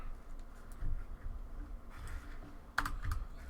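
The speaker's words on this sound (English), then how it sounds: "I love the clickety clacks." Rapid clicky typing on a compact 60% computer keyboard, close and fairly loud, with uneven bursts of keystrokes and a sharper cluster of clacks near the end.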